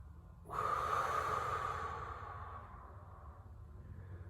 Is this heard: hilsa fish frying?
no